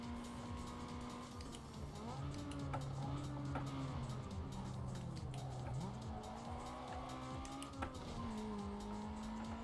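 A car engine in Need for Speed Underground 2 held near its rev limit, a loud steady high whine that dips and climbs through gear changes, with faint tire squeal underneath and no voices.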